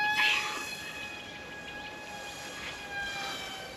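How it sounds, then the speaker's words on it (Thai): Small battery-powered toy airplane with its motor running, giving a steady high whine with several sustained tones, fairly close and moderately loud, rising and falling slightly. "เดี๋ยวเล่นเครื่องบินโชว์ดีกว่า"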